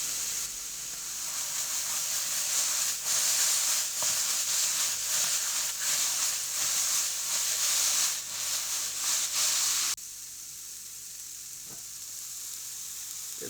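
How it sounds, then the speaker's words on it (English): Steady loud sizzling and hissing of mushrooms frying in a pan as their steam cooks off, continuous for about ten seconds before dropping to a quieter, softer sizzle. "So you can see the steam has almost gone out of the mushrooms now, they're starting to fry."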